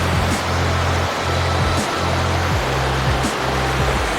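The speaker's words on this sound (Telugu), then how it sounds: "ఇదే చేపరాయి జలపాతం" The Chaparai waterfall in the Araku Valley rushes with a steady, loud, broadband roar of falling water and no voices.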